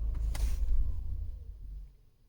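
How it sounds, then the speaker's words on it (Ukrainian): A car engine switched off after changing over to methane gas: a short low rumble with a mechanical click that dies away into quiet, close and fairly soft. "Все, машина виключилась."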